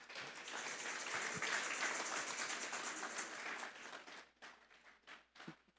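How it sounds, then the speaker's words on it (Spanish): A church congregation bursts into broad, sustained applause that holds for about four seconds, then thins to a few scattered claps, heard at moderate distance and rather soft. "Vamos a dar un fuerte aplauso pues al Señor."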